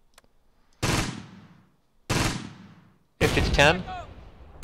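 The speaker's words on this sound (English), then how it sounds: "Let's turn around the hull so that the bow machine gun can start firing as well." Bursts of tank bow machine gun fire in the Close Combat war game, three loud close rattling volleys separated by short silences, with a brief spoken phrase over the last burst.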